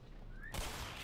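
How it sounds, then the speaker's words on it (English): Point-blank shotgun blast in the video game Black Mesa, one sudden loud burst of noise that cuts in after a rising whine and carries on as a harsh wash of sound. "I missed a point blank shotgun shot."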